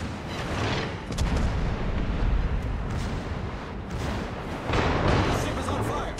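Warship guns firing in a naval battle game, with Charles Martel tech-line ships broadside, heavy rolling booms in repeated surges under continuous talk.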